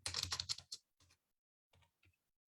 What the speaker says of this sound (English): I'm not very good at typing.